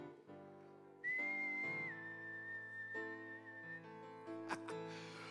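A person whistles to imitate an old-fashioned tea kettle letting off steam: a sustained, steady high whistle, clear and close, that slides slightly and then fades out, with brief breathy noises afterward.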